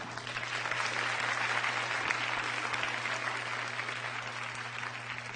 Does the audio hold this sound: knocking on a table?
no